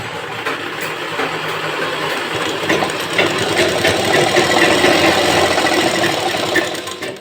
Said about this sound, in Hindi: यहाँ पे सिलाई चला लेते हैं एक सीधी यहाँ तक।